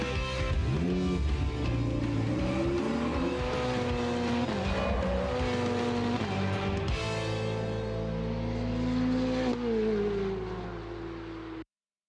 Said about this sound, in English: driving a turbo car is different to driving that normally aspirated car